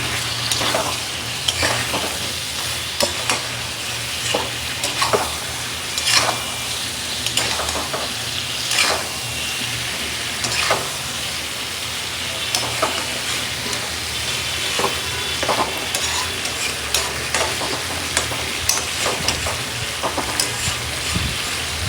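Pointed gourd and a little potato fry in masala while being stirred in a pan. A loud, continuous sizzle runs throughout, with frequent scraping strokes of the utensil against the metal.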